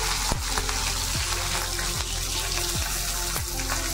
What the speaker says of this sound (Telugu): ఇందులో పోపు గింజలన్నీ వేసుకొని ఇవి కమ్మటి వాసన వచ్చేంత వరకు కూడా మనం వేయించుకుందాం